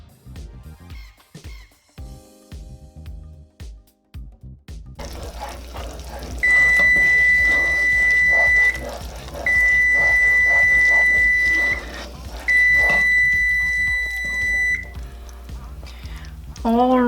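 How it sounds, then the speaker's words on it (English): Kitchen timer beeping after a three-minute countdown while pecan bar filling boils on the stove: three sustained shrill electronic tones in a row, fairly loud over low kitchen rumble and bubbling. "timer has beeped, 3 minutes is up"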